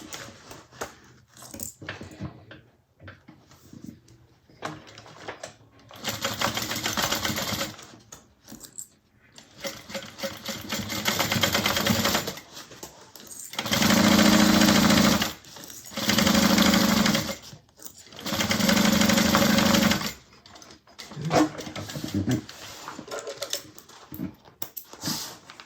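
A sewing machine stitches the sides of a fabric bag at a quarter-inch seam, running in several separate loud bursts of steady whirring, with quieter pauses of handling and small clicks between them.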